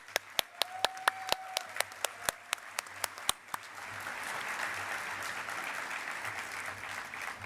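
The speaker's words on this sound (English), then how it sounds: "please join me in an AFCEA round of applause for all of our winners" At an AFCEA award luncheon, a few loud, close, separate hand claps ring out first, then the whole audience joins in a broad, sustained round of applause.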